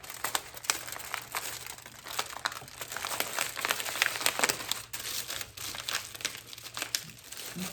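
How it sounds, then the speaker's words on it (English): Aluminium foil is crumpled and crinkled around a craft object, producing continuous close crackling and rustling with uneven bursts and no voices. "I'm gonna wrap this in foil."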